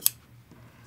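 One short, sharp snip of scissors cutting fabric for a quilt, close and crisp, followed by a faint second click and quiet room tone.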